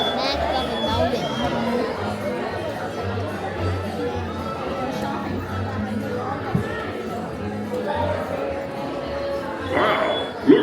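An audience at the Country Bear Jamboree in Walt Disney World keeps up a continuous low murmur of crowd chatter. A voice speaks over the babble.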